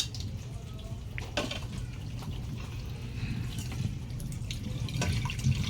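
Water running from a kitchen tap into a sink while a two-year-old washes dishes, a steady low splashing stream with occasional clinks and drips, close by.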